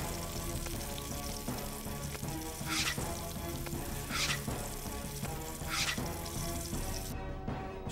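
A burger sizzling on a grill in the Iron Chef Wii cooking game, a steady hissing fry with periodic louder bursts of spatter, close and continuous without any talking.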